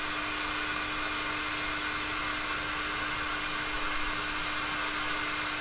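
A hair dryer blows warm air over a giant centipede, a loud steady whir with a constant hum that holds unchanged from start to finish.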